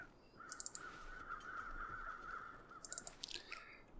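Crows caw in the survival game The Long Dark, heard as two faint clusters of quick harsh calls over a quiet, steady wind-like hum.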